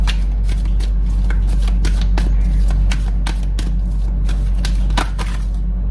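Tarot cards shuffled by hand up close, a rapid, loud run of riffling flutters and taps repeating steadily for several seconds with no talk.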